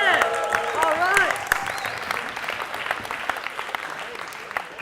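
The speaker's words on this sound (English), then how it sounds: "So I want you to all make some noise for them, give them some encouragement first." A lecture-hall audience at a university leadership talk cheers and whoops loudly, then breaks into sustained, dense applause that carries on steadily through the rest.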